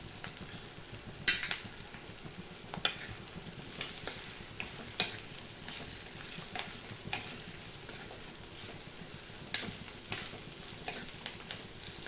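Fried bitter gourd pieces and onions sautéing in a pan, a steady close sizzle broken by repeated sharp scrapes and clinks of a stirring spoon throughout.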